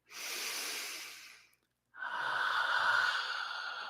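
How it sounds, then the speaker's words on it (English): A deep breath in a quiet room, with a long audible inhalation, a brief pause and a longer, fuller airy exhalation, close and soft. "As you take another deep and clearing breath"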